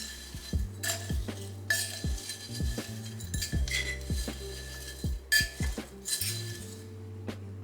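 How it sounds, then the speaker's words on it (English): Small salad forks stir potting soil and perlite in a plant pot, giving scattered bright metallic clinks and short ringing taps over a faint steady hum, close and fairly quiet. "I'm gonna use these as little like salad forks and just kind of go in there and just kind of mix it up."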